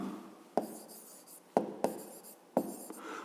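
Pen strokes of a handwritten math solution for a fifth-grade exercise, with a few sharp taps and scratchy writing bursts spaced about a second apart, quiet and close with no talk.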